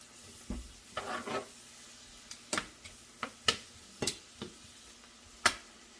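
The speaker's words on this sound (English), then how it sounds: "Stir that in." Butter and beef broth being stirred in a pot, giving scattered scraping and clinking strokes with a light sizzle underneath, fairly close and without any talking.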